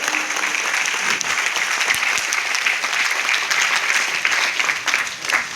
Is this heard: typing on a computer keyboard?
no